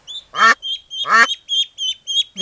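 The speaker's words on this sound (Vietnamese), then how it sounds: "Con vịt." A duck quacks loudly and close by, giving two long harsh quacks followed by a quick run of shorter rhythmic calls.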